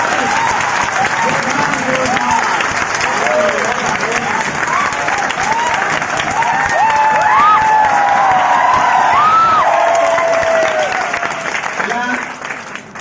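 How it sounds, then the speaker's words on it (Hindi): A room full of children claps loudly and steadily for a guest, with high shouts and whoops rising over the applause, which holds strong for about twelve seconds before tapering off at the end. "एक बार सुमित जी के लिए जोरदार ताली हो जाए।"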